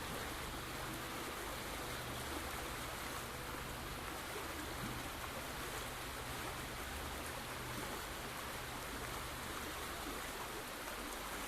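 Continuous broadband rush of water flowing around stones in the video game A New Beginning, near a waterfall, steady and even throughout with no talk over it.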